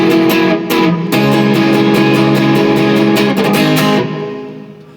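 A guitar in standard tuning plays the intro of a song: loud, close strummed chords with rhythmic attacks for about four seconds, then a ringing chord fades out.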